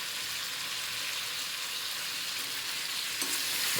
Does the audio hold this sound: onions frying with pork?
yes